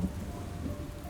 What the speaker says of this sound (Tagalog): hindi po talaga humihina ang ulan